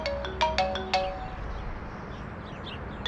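A phone ringtone for an incoming call plays a quick run of bright, chiming electronic tones, then stops and leaves a faint room background, with one more tone at the very end.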